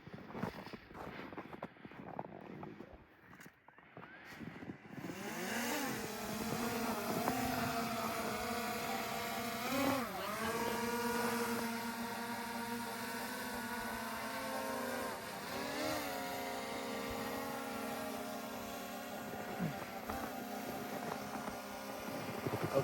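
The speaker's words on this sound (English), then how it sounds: "This is my DJI drone that I brought to Antarctica." A DJI drone in Antarctica whining with a steady, rising multi-tone buzz as it lifts off and flies, close and continuous after a quiet start.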